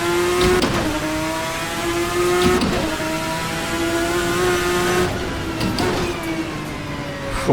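A V12 engine in a sim racing game revs hard and continuously, with several quick gear shifts breaking the loud, sustained howl.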